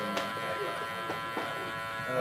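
An electric hair clipper with a 0.5 guard, lever half closed, buzzes steadily during a haircut, close and constant with faint speech underneath.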